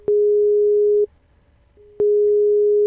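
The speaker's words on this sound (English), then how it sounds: "Okay, so I have a sine wave." A pure sine wave test tone at a single steady pitch, switching abruptly on for about a second, off for a second, then on again, loud and clean with clicks at each edge.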